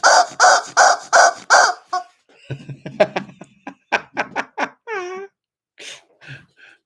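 Chickens cluck and squawk up close in a string of loud, rhythmic calls, followed by shorter scattered clucks and one rising squawk, with no speech.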